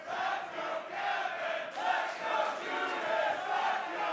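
A wrestling crowd at a live show chants and shouts together in a steady, fairly loud roar with rhythmic surges, as if from the stands.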